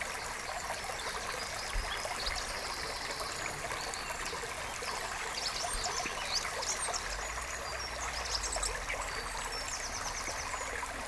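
A woodland stream lined with primroses, its water flowing and trickling in a steady, even rush, heard alone at moderate volume with no voices.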